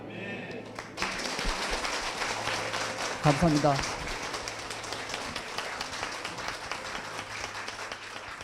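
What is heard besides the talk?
congregation applauding in church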